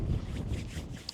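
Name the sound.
wind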